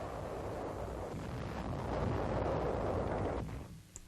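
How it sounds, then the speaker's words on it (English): Heavy WW2 artillery shelling of a German town across the Rhine rolls as a dense, rumbling roar on an old newsreel soundtrack, holding steady before fading near the end, with a small pop at the close. "1st Army artillery shells the town of Honingen, Germany, across the Rhine"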